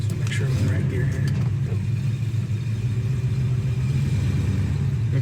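A 1969 Chevelle's engine runs steadily while the car drives, a loud continuous low rumble with mild revving throughout, close and unbroken.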